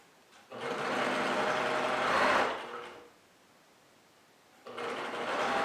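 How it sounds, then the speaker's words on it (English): A sewing machine runs in two steady, close whirring bursts, stitching quilt binding strips together for a charity quilt, with a quiet gap between the runs. "So I'm going to sew all my pieces together."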